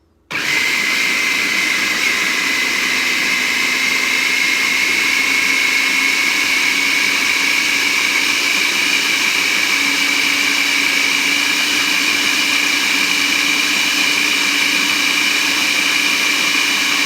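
A blender purées garlic scape pesto with cashews and oil, giving a loud, steady whirring drone that starts abruptly and holds for the whole stretch with no talk.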